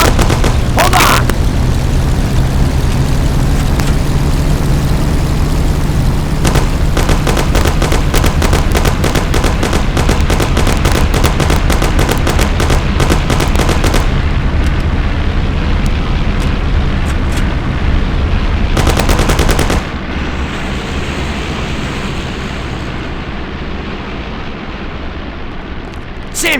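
Rapid, loud bursts of automatic gunfire and heavy blasts come from Mafia: The City of Lost Heaven during a car shootout, with shouting voices and a rumbling engine underneath before the shooting stops.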